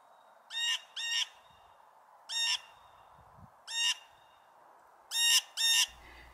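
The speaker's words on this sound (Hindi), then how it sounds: "नीलकंठ पक्षी हॉक यानी कि बाज की कॉल की नकल कर सकते हैं।" A blue jay gives repeated harsh, hawk-like screeching calls, six separate loud raspy notes grouped in pairs and singles with pauses between, close and clear over quiet background.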